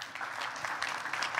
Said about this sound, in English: So let's give him a round of applause and bring him up here.